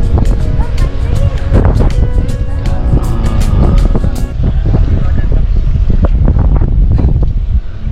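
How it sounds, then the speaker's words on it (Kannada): Waves crash loudly at a river mouth near Pondicherry, where rocks form a barrier, with a rough, continuous roar heavily buffeted by wind noise on the microphone. "ಪಾಪ ಅಲೆಗಳು ಜೋರ ಹೊಡಿತಾ ಇದೆ"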